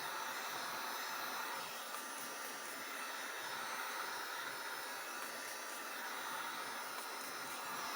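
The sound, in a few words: hair dryer blowing on an alcohol-ink tumbler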